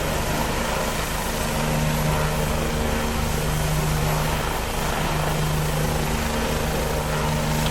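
A Bell 429 helicopter in X-Plane 11 comes in to land with a loud, steady rotor and turbine drone that holds unbroken throughout, with no voices over it.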